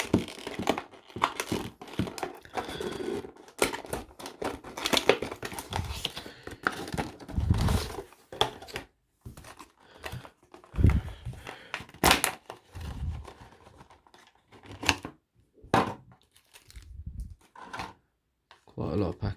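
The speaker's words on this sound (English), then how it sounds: "Let me just quickly get it out of the box." Crinkling and rustling of plastic and cardboard packaging as a Gemini Jets model aircraft in chrome livery is unboxed, in irregular close bursts with someone talking over parts of it.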